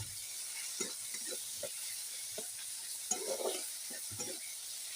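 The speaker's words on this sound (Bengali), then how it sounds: "আর রান্নাটা করছি দেখাচ্ছি বন্ধুরা, সুন্দর করে নেড়ে দেখুন।" Fish curry with mustard paste being stirred in a pan, a low continuous sizzle broken by repeated short scraping strokes of the spoon, close up and without any talk.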